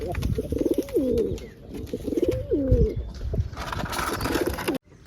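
Pigeons in a new loft setup give repeated close cooing calls in rising and falling phrases over a steady background hiss, with a burst of rustling near the end.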